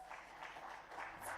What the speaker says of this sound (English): ladies and gentlemen, huge round of applause.